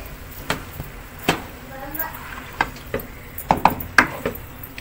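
Boiled macaroni being stirred into cooked vegetables in a pan for chicken macaroni, with scattered scraping and clinking spoon strokes against the pan at an irregular pace, close by, while a voice talks over it.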